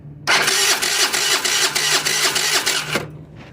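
Starter cranking a GY6 scooter engine that has been sitting, a fast steady whirring churn lasting about three seconds, close and loud, then cutting off abruptly.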